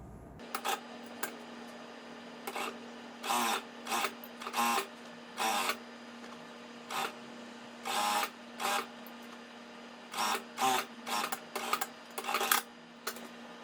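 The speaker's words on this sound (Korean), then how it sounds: "앞쪽에 라인을 1cm 박음질 하도록 하겠습니다" A home sewing machine stitches a 1 cm seam line on a drawstring bag in short repeated bursts, each run lasting under a second with brief pauses between, close and fairly quiet over a faint steady hum.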